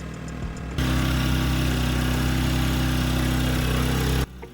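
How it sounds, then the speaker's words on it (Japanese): An EENOUR GS900i-B inverter generator's engine kicks up suddenly into a loud, steady droning hum, running evenly for a few seconds close by before dropping away abruptly. "発電機のそばで測った音量が約88デシベル。"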